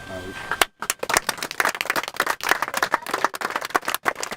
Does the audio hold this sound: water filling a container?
no